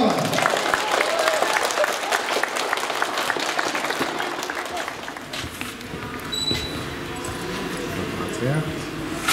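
Sustained applause from a crowd at a school football final, honouring the runners-up from a primary school team, dense clapping throughout with a voice speaking over it.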